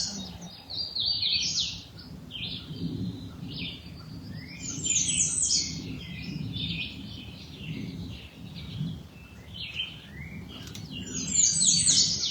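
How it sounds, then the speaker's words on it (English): Several birds sing outdoors in spring, with bright chirps and trills rising and falling over a soft, steady background, with no voices. "Hear this breath, the birdsong inviting it to deepen"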